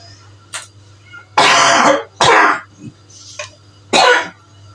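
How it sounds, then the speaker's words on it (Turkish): A person coughs close by, with a short cough followed by three loud, harsh bursts spread over a few seconds and quieter throat sounds between them, with no talking. "Yine öksürük çoğaldı."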